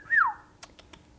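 A pet bird gives a single short whistle, a clear falling note near the start, followed by a few faint soft clicks and taps in a quiet room.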